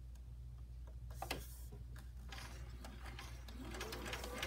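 Sewing machine stitching a quilt block for a butterfly quilt pattern, running in quick mechanical bursts of needle ticking with short pauses, fairly quiet and close over a steady low hum.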